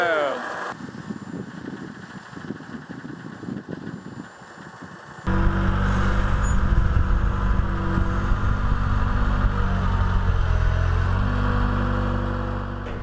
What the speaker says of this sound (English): The skid steer, by definition, is skidding its wheels anytime it turns